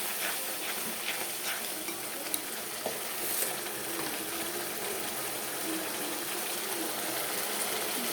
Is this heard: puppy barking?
no